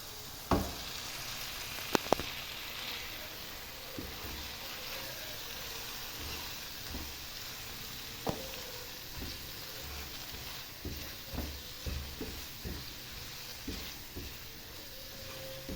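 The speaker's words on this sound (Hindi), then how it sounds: "मसाले को भी हम बहुत ही अच्छी तरह से भून लेंगे नमक मिर्च ऐड करने के बाद" Masala spices fry in a pan while cooking a dark red kidney bean dish, giving a faint, steady sizzle with scattered soft clinks and stirring taps.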